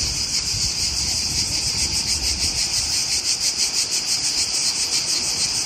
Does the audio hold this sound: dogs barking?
no